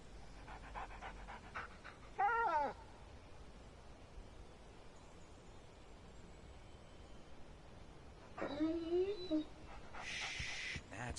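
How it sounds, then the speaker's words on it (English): A dog in the video game Alan Wake gives faint, soft panting and brief whimpers, with a quiet voice speaking over it. "That's a good dog."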